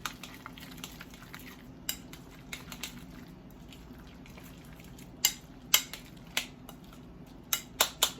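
A utensil scrapes and clinks against a bowl while crab cake mixture is stirred, giving scattered sharp taps over a soft, wet background with no talking.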